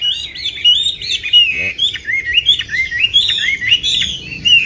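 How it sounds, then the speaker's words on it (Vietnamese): A pet songbird sings a long run of varied, high, rapid chirps and warbling phrases, close and loud, with no talking over it. "con chim này là cũng tương đối nhiều giọng đấy đảo rất là nhiều giọng"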